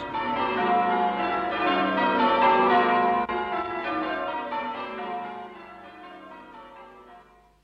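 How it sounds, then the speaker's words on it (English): Wedding bells ring out in a bright, resonant peal, several overlapping bell tones sustained and then slowly fading away, heard alone without voices. "And the wedding bells rang out happily for Cinderella and her prince."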